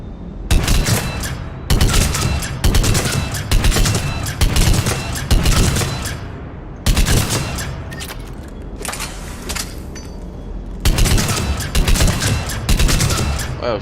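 An Argus rifle firing on a shooting range in Mass Effect 3 with mods, loud rapid bursts of gunfire coming in several separate volleys with short pauses between them.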